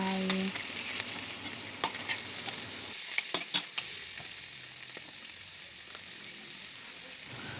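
Field rat meat stir-fried with curry paste, a steady close sizzle and frying hiss with scattered crackles and pops from the pan, no talking.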